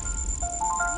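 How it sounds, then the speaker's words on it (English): A short electronic phone ringtone begins, its tones stepping upward over a low background hum, faint and brief. "your phone is ringing."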